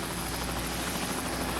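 A recovery helicopter hovers over the Apollo 11 splashdown site in 1969, its rotor beating as a loud, steady, rhythmic thrum and whine heard alone.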